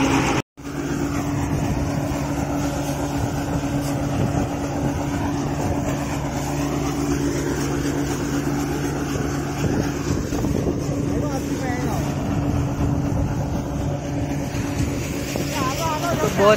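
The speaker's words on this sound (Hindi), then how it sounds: "तो यहाँ हमारे बिल्कुल सामने ही थ्रेसर चल रहा है" A peanut thresher runs beside a tractor on a farm during the groundnut harvest, making a steady loud mechanical drone with a constant engine hum throughout, and someone talks over it.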